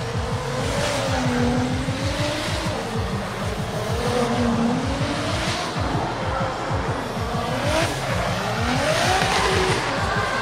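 A drift car in qualifying at the 2017 FIA Intercontinental Drifting Cup holds a loud, constant engine howl with pulsing revs and a rough layer of tire noise throughout.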